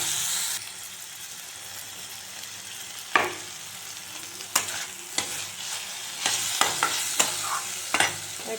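Chopped tomatoes frying in a pan over a low flame, with a soft steady sizzle and a scattering of sharp scraping stirs and clinks toward the end.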